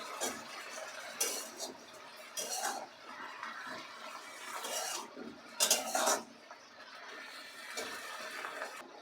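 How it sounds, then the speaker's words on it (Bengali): Pui shaak (Malabar spinach) is sautéed with salt in a pan, heard as a series of rasping spatula scrapes and rubs against the metal, coming in irregular bursts over a soft background. "আর দিয়ে দেবো লবণ দিয়ে এটাকে খুব ভালো করে কষে নেবে"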